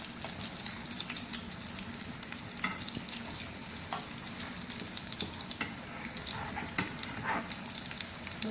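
Vegetable kebabs shallow-frying in oil in a pan, a steady close sizzle with scattered pops and crackles running throughout, no voices.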